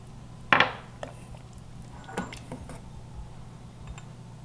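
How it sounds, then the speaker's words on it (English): Serving stew from a thermos jug into two small bowls: a sharp clink of a utensil against a bowl, followed by softer scattered taps and scrapes over a low steady hum. "I'm going to dish up two small bowls of this stew."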